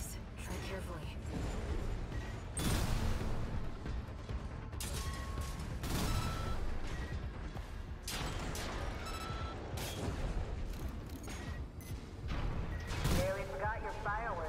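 Rocket volleys launched from a combat mech in a video game, with repeated bursts of whooshing blasts and booms layered over busy game effects, while a voice talks throughout.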